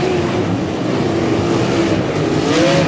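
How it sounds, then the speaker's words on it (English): Sprint cars from a POWRi WAR Sprint Car League race battling for a transfer spot at Humboldt Speedway, a loud continuous engine roar with a rising and falling pitch as the cars pass. "We got 3 cars trying to battle for that 4th and final transfer spot."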